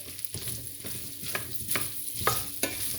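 Chestnuts stirred in butter in a frying pan, giving a soft steady sizzle broken by several scraping strokes of the utensil, close up with no talking.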